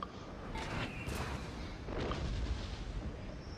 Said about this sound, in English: Russia's artillery is still doing well though